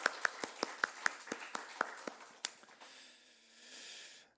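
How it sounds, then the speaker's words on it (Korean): A church congregation at a Wednesday evening prayer service claps in welcome, about ten sharp, fairly close hand claps in a steady rhythm, then a looser spread of clapping and murmur fading out. "성령이 환영하는 박수"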